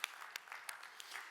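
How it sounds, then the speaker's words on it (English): Scattered clapping comes from an audience at an Autodesk University Middle East conference, light and brief with a few sharper claps standing out. "Give yourselves a round of applause."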